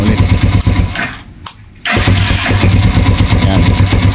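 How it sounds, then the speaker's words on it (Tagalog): A motorcycle's electric starter cranks and the engine fires into a loud, close running roar, cuts out briefly, then catches again and keeps running steadily. "naririnig nyo naman yung tunog ng starter"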